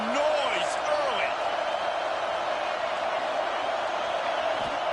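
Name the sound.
college football stadium crowd noise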